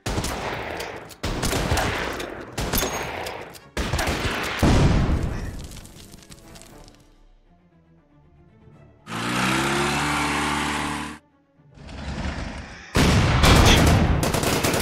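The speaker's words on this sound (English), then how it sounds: "Those four anti-aircraft guns can't even do any damage back to those T-34s." Anti-aircraft guns open up on T-34 tanks in an Order of Battle WWII battle: loud bursts of gunfire and heavy blasts arrive in separate chunks, some sharp and brief, others sustained, with short quiet gaps between them.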